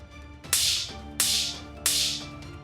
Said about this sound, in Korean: 선희는 거침없이 다가가 미정의 뺨을 3차례 연거푸 후려쳤다.